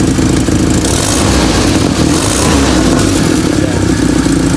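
A loud Toyota 5K engine runs close by, chugging steadily with a rough low rumble, an odd exhaust noise, and slight rises in revving.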